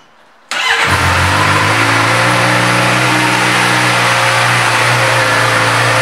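A 2013 Suzuki GSXR600 motorcycle with 24,159 miles cranks and fires after a short quiet moment, then settles into a loud, close idle with revs, running steadily to the end.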